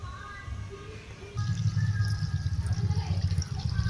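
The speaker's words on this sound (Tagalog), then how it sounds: "Lalagyan na po natin ng tubig." Water poured over rice noodles for pancit habhab, a steady, splashy stream that starts softly and then swells into a fuller, louder gush, close by.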